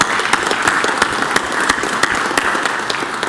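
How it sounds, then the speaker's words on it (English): Audience applause fills a city council meeting, a dense, steady wash of many hands clapping at fairly close range with a few sharper individual claps standing out, and no talking over it. "Let's give her one more round of applause."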